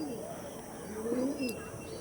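Soft, low pigeon coos rise and fall against a steady background hum, fairly quiet and close.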